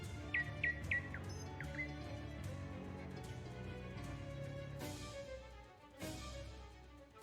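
Cartoonish bird chirps in the video game Shadows Over Loathing, a few quick rising tweets at the start over a busy background of game music and effects, followed by sharp clattering hits.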